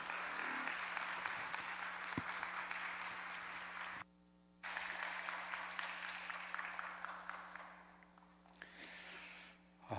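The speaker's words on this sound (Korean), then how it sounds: "큰 박수로 강단에 초청해서 모시겠습니다." A church congregation at a Sunday worship service applauds to welcome the preacher to the pulpit; steady, fairly faint clapping from a crowd across the room, briefly cut out, then continuing and fading.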